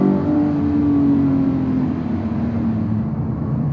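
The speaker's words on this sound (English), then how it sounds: "the engine in this is absolutely bananas" Engine of a Porsche 911 GT3 with a manual gearbox, a loud, guttural sustained drone that climbs slightly and then eases. It fills the whole stretch with no voices.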